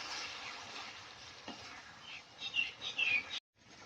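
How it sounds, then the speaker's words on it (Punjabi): Carrots cooking in vinegar in a pan for a green chilli pickle: a soft steady sizzle with stirring scrapes, rising toward the end before a sudden cutoff, with faint chirps in the background. "ਹੁਣ ਇਹਨਾਂ ਨੂੰ ਗਾਜਰਾਂ ਨੂੰ ਸਿਰਕੇ ਵਿੱਚ ਵੀ ਚੰਗੀ ਤਰ੍ਹਾਂ ਸੇਕ ਲਵਾ ਲੈਣਾ"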